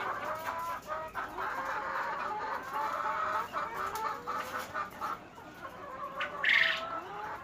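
BV380 hens clucking and calling in a backyard flock, with repeated soft clucks and chatter throughout and one louder, sharper squawk near the end, no talk over it.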